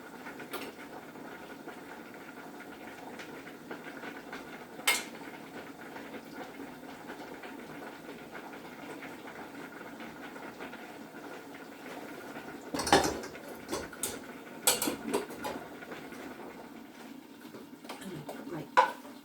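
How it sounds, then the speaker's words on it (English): Spaghetti is served from a pan into a bowl in a home kitchen, with faint scraping and stirring over a steady low hum, punctuated by a few louder clanks of utensil against dish. "So we should put out a portion of spaghetti."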